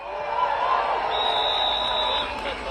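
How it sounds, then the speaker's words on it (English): Outdoor crowd at a COP26 climate march in Glasgow applauding and cheering in rainy weather, a steady broad wash of claps and voices with a whistle-like whoop rising above it. "Round of applause for yourselves."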